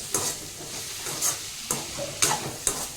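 Chayote pieces sautéing in a pan with garlic and tomato, a low sizzle punctuated by five or six sharp spatula scrapes and stirs at an uneven rhythm, close and moderately loud.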